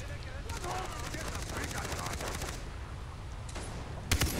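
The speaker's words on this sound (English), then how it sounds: "He's trying to shoot at me." Rapid automatic gunfire in Far Cry 3 co-op play, a dense rattling burst for about two and a half seconds, then scattered single shots and a sharp loud crack near the end, with voices talking over it.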